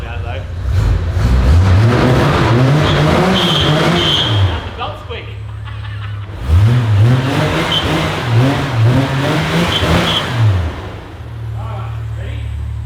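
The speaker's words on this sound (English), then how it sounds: "This is the last time you'll ever hear this engine run." A Ford XE Falcon's 4.1-litre crossflow carburettor engine running for the last time, idling and being revved in repeated rising and falling surges, loud and close, with people talking over it before it cuts off.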